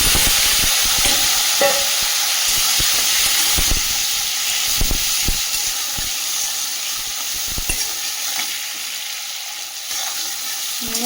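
Chopped onions and spices frying in a pan, a loud continuous sizzle with frequent clacks and scrapes of stirring, close up and with no talk.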